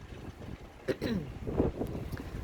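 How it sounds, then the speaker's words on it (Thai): A steady, strong gale blows during a snowstorm in Iceland, roaring as a constant rush with buffeting against the microphone. A faint voice can be heard under the wind. "ความแรงลมนี่เท่ากับ เราขับรถร้อยกว่า ไป"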